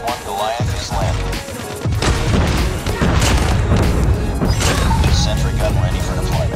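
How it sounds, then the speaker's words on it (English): An XS1 Goliath mech lands in Call of Duty Mobile on a multiplayer hardpoint match, a heavy thudding impact and metallic crashing amid dense, loud battle noise, with game voice announcements mixed in. "Friendly XS1 Goliath is landing."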